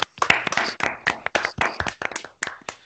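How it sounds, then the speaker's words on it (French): Sharp, close hand claps ring out in a quick, slightly uneven rhythm, with a few distinct clean strikes and short gaps between them, as though only a handful of people are clapping nearby. "Micro ouvert, applaudissements."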